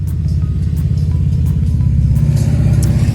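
A loud, steady engine rumble with a low throbbing pulse, close by and continuous, like motorcycles running past on a residential street on a windy morning.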